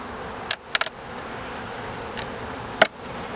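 Honeybees hum steadily from an open hive box during late-season colony prep, with a few sharp clicks and knocks from handled frames sounding close over the drone.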